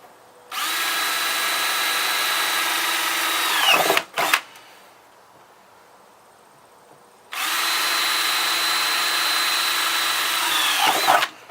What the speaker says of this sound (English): I'm going to drill 4 holes in each barrel